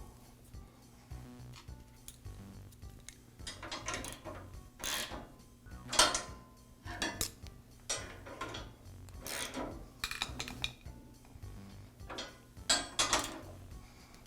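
Bolts being tightened on the table of an MK Diamond tile saw during a repair produce close, quiet ratcheting clicks and metallic rubbing in short irregular bursts over a faint steady hum.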